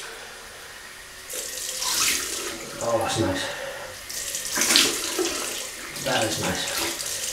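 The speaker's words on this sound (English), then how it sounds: "So we'll have a cold water rinse." A bathroom tap runs in strong bursts for a cold-water rinse after a wet shave with a safety razor, splashing loudly while someone talks briefly over it.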